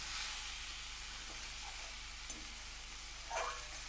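Greens (shak) frying in a pan, a steady, fairly quiet sizzling hiss with a couple of faint scrapes from stirring.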